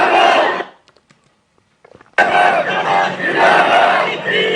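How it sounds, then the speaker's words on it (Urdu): At a Hafizabad political rally, a large crowd roars slogans in loud bursts, cutting off abruptly into near silence, then erupting again into sustained massed chanting. "آپ ذرا ایک اور کلپ دیکھیں اور یہ ذرا نعرے سنیں"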